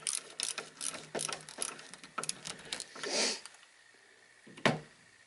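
Screws being tightened on a G3 Enzo 75mm telemark ski binding, a series of close, quiet ratcheting clicks in short bursts, followed by a softer scrape and a single sharp click near the end.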